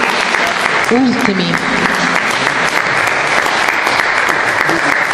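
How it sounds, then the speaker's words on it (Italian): An audience in the Santa Chiara church in Lecce applauds the suites of Max Mura with dense, sustained clapping that fills the space at steady volume, and a voice speaks briefly over it. "Facciamo un applauso alle suite di Max Mura"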